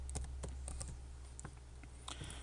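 Keystrokes tapped on a computer keyboard, a handful of quick, separate clicks spread unevenly over the span, close and fairly soft, over a steady low hum with no talk.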